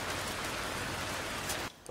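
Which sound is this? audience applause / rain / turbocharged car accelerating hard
rain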